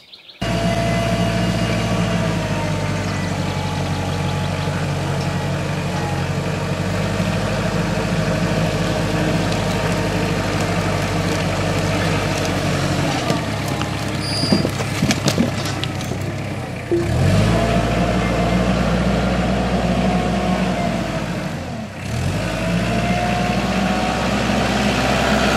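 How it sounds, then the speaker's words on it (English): A compact tractor's engine runs steadily while a rock bucket pushes a pile of firewood rounds and splits, a close, sustained mid-low drone with two brief dips in revving near the end, and no talking. "I can just push it up with the tractor"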